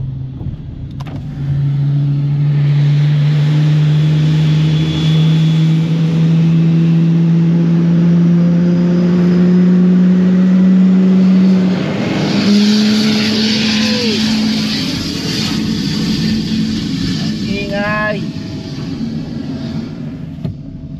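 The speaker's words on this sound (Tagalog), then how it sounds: "Lakas ng tunog ng GE engine." Loud, sustained roar of a Boeing 777's General Electric jet engine, with a steady droning tone that shifts in pitch midway, close and powerful throughout.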